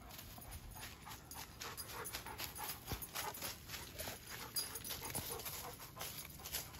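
A loose dog roaming near a hunter in the Vermont woods during an early muzzleloader deer season, with faint panting and soft footfalls in leaves, heard at a distance over steady outdoor background noise.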